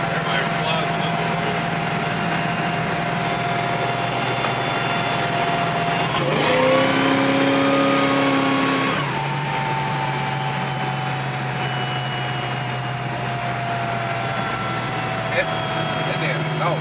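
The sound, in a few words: 1971 Chevelle LT4 engine with 3-inch stainless steel exhaust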